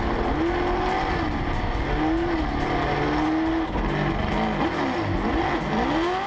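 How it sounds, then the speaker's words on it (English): V8 supercar lapping a fast race track, a loud continuous engine roar with rising and falling pitch as it shifts and accelerates, heard from close by. "passengers got to ride around one of the fastest tracks in the country inside a V8 supercar"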